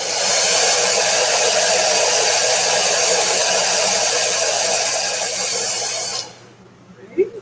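A hair dryer blows steadily close by for about six seconds, drying an altered mixed-media clipboard craft project, then switches off, leaving a few faint handling sounds.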